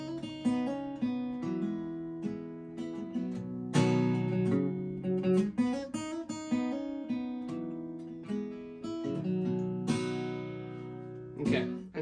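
Acoustic guitar with a capo plays the riff from a song, a steady run of plucked, ringing notes and chords, close and clear, with no talking.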